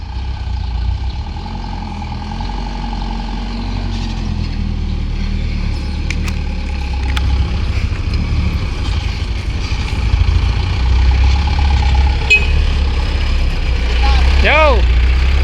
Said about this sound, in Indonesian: Kasihan nih mobil, ya Allah, tingginya muatanmu.